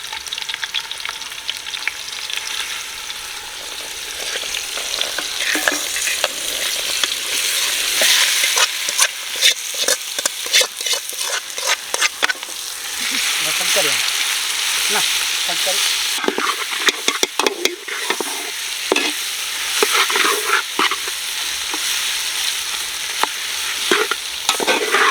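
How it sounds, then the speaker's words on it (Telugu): Marinated spiny gourd sizzles in hot oil in a pan as a spoon stirs and scrapes it for biryani, steady frying hiss broken by frequent clinks and scrapes, close and fairly loud with no talk. "మ్యారినేట్ చేసుకున్న అంటే బోడాకాకరకాయలకు మనం మసాలా గిట్లా కలుపుకున్న అది ఉంది కదా, దాన్ని మనం పోపు వేసుకుంటున్నాం"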